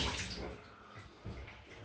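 Water running over a razor to rinse off thick shaving goo, a faint, soft splashing wash of water close by for a couple of seconds.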